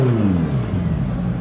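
Porsche 991 GT3 engine revving as the cars arrive at a hotel, a loud, close mechanical roar whose pitch sweeps downward as the revs fall away, with no talk over it.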